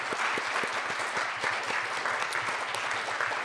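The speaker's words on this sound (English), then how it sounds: "join me in giving the panelists a round of applause." A conference audience gives panelists a round of applause after a panel discussion: dense, steady clapping from a sizeable crowd that holds evenly throughout at moderate distance.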